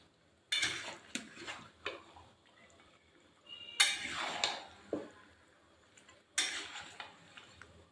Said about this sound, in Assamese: মাংসখিনি লৰাই আছোঁ।